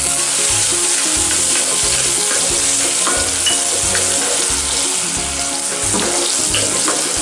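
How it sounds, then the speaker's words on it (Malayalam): Shallots sauté in hot oil in a pan, giving a loud, continuous close sizzle with faint stirring underneath and no voices. "ഇനി ഇത് നന്നായിട്ടൊന്ന് വഴന്ന് വരണം"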